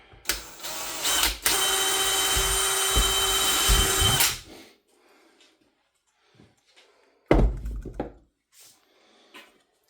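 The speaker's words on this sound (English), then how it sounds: "Now we need to drill that hole" A power drill whines steadily for about three seconds while boring holes for a zip tie caddy, stops, then gives a short second burst later, with faint handling clatter between.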